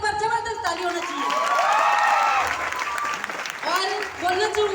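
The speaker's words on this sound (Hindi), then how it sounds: "एक बार जबरदस्त ताली होना चाहिए।" An audience at a business achievers' event breaks into applause while a voice speaks over it near the start and again at the end.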